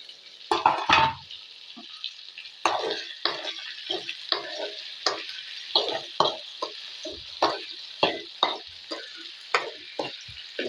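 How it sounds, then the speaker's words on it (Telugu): Ivy gourds fry in a pan with a steady, close sizzle, punctuated by irregular stirring clicks and scrapes, no one speaking. "దొండకాయలు ఎంతవరకు వేగినాయో చూద్దాం."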